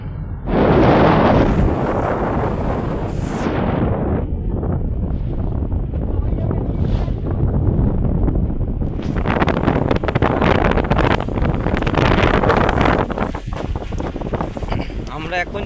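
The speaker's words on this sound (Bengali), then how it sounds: "আমরা এখন যে নৌকোটাতে আছি এটা হচ্ছে এমবি মা লক্ষ্মী সৌমিলি সহেলি বোট" Motorboat MB Ma Lakshmi riding the choppy waves of the Matla river in the Sundarbans, a steady engine rumble mixed with loud wind buffeting and rushing water, with a brief quieter lull midway before the roar returns.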